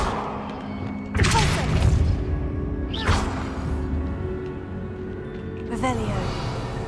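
Incendio fire spell cast in the video game Hogwarts Legacy, heard as several sharp whooshing bursts with crackling flare-ups, each fading into a low rumble, set against steady ambient game sound.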